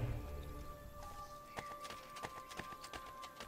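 Horse hooves clip-clop in Assassin's Creed: Brotherhood, a quick, even run of hard hoof strikes at moderate distance over a faint tonal game hum.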